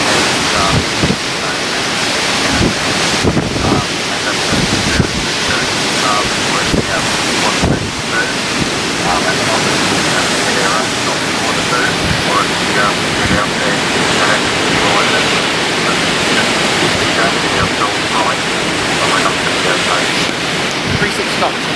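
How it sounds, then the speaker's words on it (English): Strong gusts of cyclone wind buffet a car during Cyclone Yasi, a loud, steady roar of broadband rushing air with repeated thumping bursts, while people talk excitedly underneath. "Big gust."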